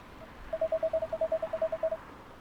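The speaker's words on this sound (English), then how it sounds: "The phone rings." A telephone rings in the video game Coffee Talk, sounding as two quick bursts of short, evenly spaced electronic trills that are clear and moderately quiet.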